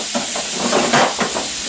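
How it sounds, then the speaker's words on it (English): Onions and garlic sizzle loudly in a hot pan, a close, steady hiss with small crackling bursts, no talk. "Listen to that sizzle, y'all. Sizzle, sizzle."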